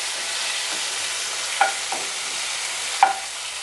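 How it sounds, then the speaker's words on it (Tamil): Dried red chillies and onion fry in hot oil for a stuffed brinjal kuzhambu, a steady close sizzle broken by a couple of sharp scraping knocks of the stirring spoon against the pan. "இப்போ இதோட வத்தல் மிளகாய் சேர்த்து வறுத்துக்கலாம்"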